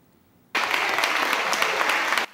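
Warm applause from officials led by the New Taipei mayor for medical staff, a dense burst of clapping that starts sharply and stops after under two seconds.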